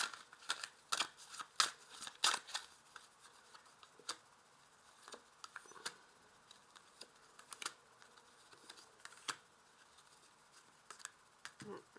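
Oracle cards being shuffled by hand in a quiet room, a run of soft papery riffles and flicks, some sharper slaps near the start, faint and close with brief gaps between bursts.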